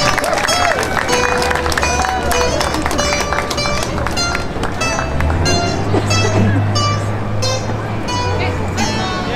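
Festival audience applauding the host folklore group Grupo Folclórico Tempos de Outrora, a continuous dense patter of clapping with crowd murmur, loud and close throughout, with a low hum underneath.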